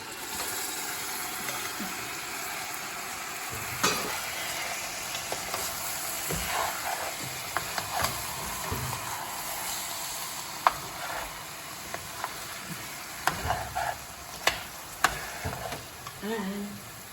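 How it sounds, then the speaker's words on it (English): Pigeon peas (gandules) are stirred into rice frying in a pot, giving a steady sizzle with scattered scraping clicks from the spoon and no voices. "Now I'm going to put the gandules into the rice"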